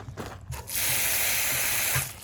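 A campsite water tap runs steadily as a hiss of flowing water that starts after a brief pause and continues for about a second and a half before easing off, with low rumbles underneath.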